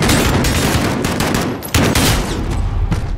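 Rapid, loud automatic gunfire in the Modern Warfare video game campaign, a continuous close fusillade of shots with a brief break midway.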